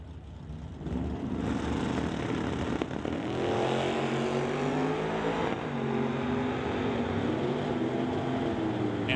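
An Old Yeller Ford and a Model A drag racing at Mission Raceway launch off the line, engines roaring up from a rumble into a loud sustained howl with rising pitch that carries on for several seconds.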